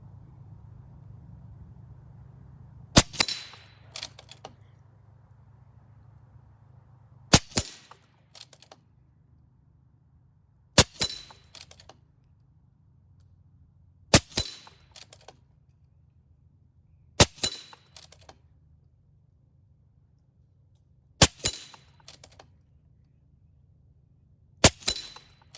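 An Air Venturi Avenger regulated air rifle fires at 50 yards, seven sharp cracks spaced a few seconds apart, each followed by a quick metallic rattle, over a quiet low background hum.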